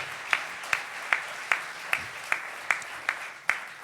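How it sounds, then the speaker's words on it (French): Audience applause at the closing ceremony of a comedy festival in Mont-Blanc, settling into rhythmic unison clapping with about nine evenly spaced loud beats over a softer background of hands. "Véronique Fourmont et de Catherine Verjus, que vous applaudissez dans une liesse qu'on ne peut plus contenir."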